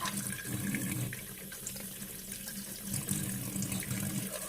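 Tap water runs steadily into a sink while mustard greens are washed leaf by leaf, a continuous close splashing with small surges and no talking.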